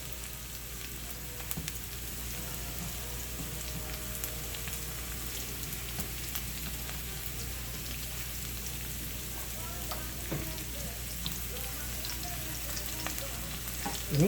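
Shrimp and broccoli in garlic sauce fry in a pan, a steady, dense sizzle that hisses evenly and close throughout, with faint occasional clinks and no one speaking.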